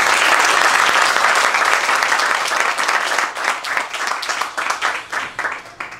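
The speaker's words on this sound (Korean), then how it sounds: "다시 한번 힘찬 축하의 박수 보내주시기 바랍니다." Loud, sustained applause from a congregation at a theological seminary graduation and degree ceremony, dense clapping that thins out toward the end into more distinct individual claps.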